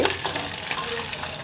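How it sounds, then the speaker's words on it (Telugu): Green chillies and curry leaves fry in a pan with steady, close sizzling and crackling, with faint stirring sounds underneath. "ఇక పచ్చిమిరపకాయలు, కరివేపాకు వేసేసి. చూడండి, కాలుతున్నాయి కదా, వేగుతున్నాయి."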